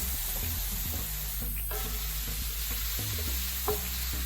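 Hamburger meat fries in a pan without added oil, giving a steady crackling sizzle broken by intermittent stirring scrapes and light knocks of a utensil.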